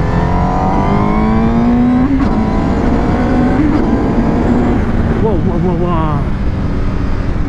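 A Honda CBR1000RR-R motorcycle engine revs up loud and close, pitch climbing through the gears with sharp shifts, while someone talks over the roar.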